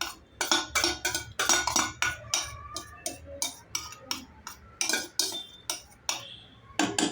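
A spoon stirs spinach paste into gravy in a pan for palak paneer, scraping and clinking against the metal in a steady, rhythmic series of strokes, close-up, with no voices.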